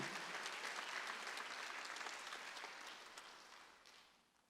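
A church congregation claps together during a Sunday worship service, a dense wash of applause that gradually fades out toward the end.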